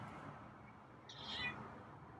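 A single short, faint meow from a cat, high and thin, standing alone against quiet background noise.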